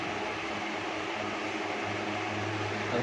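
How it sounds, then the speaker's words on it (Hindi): A repaired ceiling fan runs steadily and quietly, giving a soft, even broadband whoosh with a faint low hum and no rattling or grinding, close by and without voices. "अब हमारा पंखा बिल्कुल आवाज़ नहीं कर रहा, बिल्कुल एकदम साफ चल रहा है"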